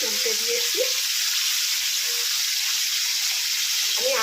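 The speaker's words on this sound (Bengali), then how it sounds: "আমি আঁচটাকে একটু কমিয়েই ভাজছি, নাহলে ভেতরটা একটু কাঁচা থাকবে।" Pieces of chicken fry in hot oil over lowered heat, a dense, steady sizzling hiss that runs throughout, with a voice speaking briefly at the start and end.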